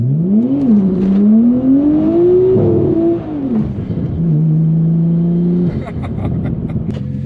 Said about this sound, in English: I'm out in uh, the R34 GTT, Tommy Kaira edition